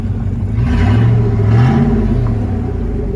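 Loud, rough engine of a used four-wheel-drive vehicle needing service running steadily, with a deep rumble that swells briefly as it revs, heard from close by.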